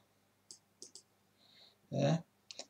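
Computer mouse clicks while drawing in CAD software, a few sharp isolated clicks spaced apart, with a short burst of soft speech between them.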